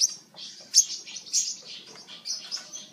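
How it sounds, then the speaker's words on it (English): Yellow parrotlet chirping in a steady run of bright, high tweets, close and fairly loud, several sharp peaks spaced through the stretch with no talk. "little Tweety bird"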